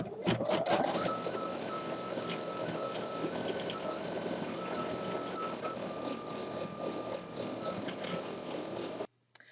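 Embroidery machine stitching a satin stitch: a steady, loud mechanical rattle with a high, sustained whine, running continuously for about nine seconds before stopping abruptly.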